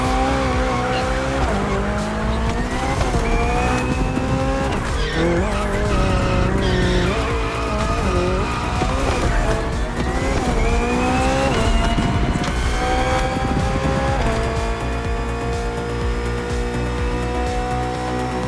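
BMW hybrid V8 race car in The Crew Motorfest video game, a continuous loud engine whine rising and falling through gear changes, with tire squeal as it corners at speed.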